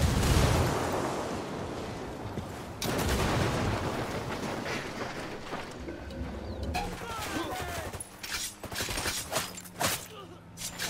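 Gunfire in Ghost Recon Wildlands during a fight at a lab with mortars and frag grenades: dense bursts of shots and blasts, loud at first, then sharper scattered reports, with voices mixed in.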